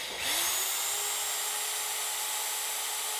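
A corded 9 amp electric drill runs on power from a homemade solar generator, whirring up to speed and holding a steady, loud, high-pitched motor whine throughout with no talking.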